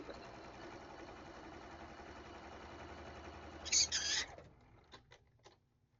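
A sewing machine stitches a 1/4 inch seam on pinwheel quilt block pieces with a steady, quiet mechanical whir that runs for several seconds. A brief higher-pitched chirp comes near the end, then the motor stops and leaves a few soft clicks.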